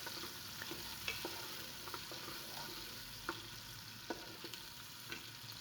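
Three to four onions fry in hot oil in a pot, giving a steady, soft sizzle, with a spoon stirring through them in occasional light scrapes and taps.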